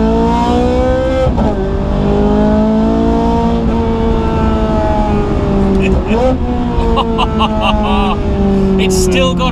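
A Ferrari 430 Scuderia engine hums and revs inside the cabin, pitch rising through gear changes as it accelerates, loud and continuous, with people talking over it.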